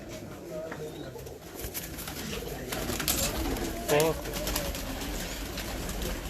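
Red-eyed pigeons coo in a loft, soft repeated throaty calls heard close with a clearer coo near the middle, while someone talks over them.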